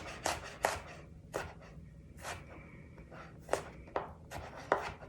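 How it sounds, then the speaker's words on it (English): A knife minces food on a cutting board while making vegetable quinoa, sharp irregular chops spaced a second or so apart, close and fairly quiet, with no voice. "So we'll just mince this up."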